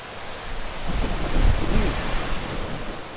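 Strong wind roars and buffets the microphone in a continuous rushing blast, swelling in the middle, with no voices.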